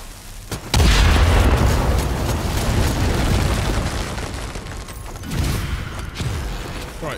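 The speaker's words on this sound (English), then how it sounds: "let's see what happens when we activate this cannon" A video game cannon fires: a deep booming blast erupts suddenly, followed by a long rumbling roar that tails off, then a second, smaller rumble.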